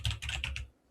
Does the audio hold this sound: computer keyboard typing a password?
yes